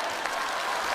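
A theater audience at the 2022 Liaoning TV Spring Festival Gala breaks into dense, loud applause during a comedy sketch, a continuous close roar of clapping with no talk over it.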